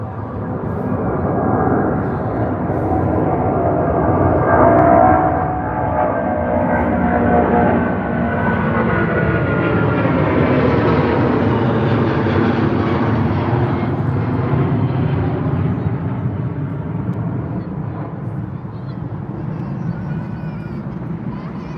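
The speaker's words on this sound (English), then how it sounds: "American Airlines 777-200 heading out of London Heathrow here, heading out to the United States." American Airlines Boeing 777-200 jet departing London Heathrow, its engines giving a loud, sustained roar that swells and shifts in pitch as the aircraft climbs away, with voices faintly under the noise.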